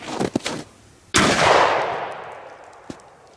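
A shotgun fires a hot turkey load of 1.5 ounces of number 4 lead shot at a car door, giving one loud, sharp blast with a long fading tail. Faint handling noises come before it and a small knock follows.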